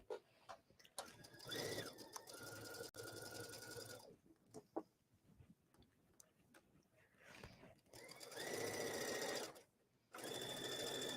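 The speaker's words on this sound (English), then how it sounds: "I'm literally stitching this seam to the inside of the garment." A sewing machine understitches a seam to the inside of a halter tank top. It runs in several short bursts of rapid stitching, separated by quiet pauses with small handling clicks.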